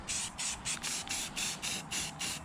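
Repeated short bursts of aerosol primer paint from a spray can, about nine hissing pulses in a steady rhythm, close and fairly loud with brief pauses between.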